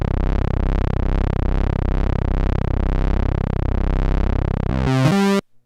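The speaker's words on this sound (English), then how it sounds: "You can hear that I have pulse width modulation on right now" A Korg Polysix analogue synthesizer holds a thick, buzzing sustained tone with pulse width modulation sweeping steadily and repeatedly through its timbre, loud and alone, ending with a short brighter stab before cutting off.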